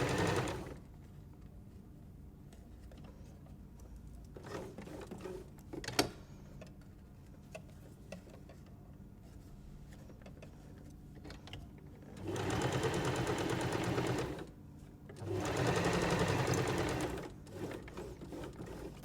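A sewing machine stitches a seam on a reusable drawstring produce bag made of napped, velvet-like fabric. Two distinct bursts of rapid stitching are heard, separated by quiet stretches with small clicks and handling noises.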